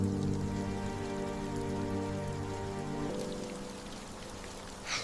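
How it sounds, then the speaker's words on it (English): Steady rain falls outdoors near a park lake, a dense continuous patter and hiss at a constant level, with no voices over it. "Oh, it's starting to rain."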